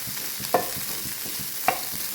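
Beans being stir-fried in a pan for a quick Kerala-style upperi, a steady sizzle broken by two sharp scrapes of the spatula against the pan, with no talking.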